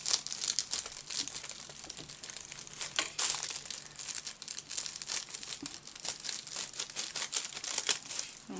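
Butterfly washi tape peeled slowly off paper in a junk journal, a continuous close crinkling and crackling with small tearing bursts, faint overall, no voices.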